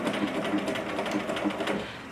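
A sewing machine runs steadily at close range, its needle hammering in a fast, even rhythm throughout.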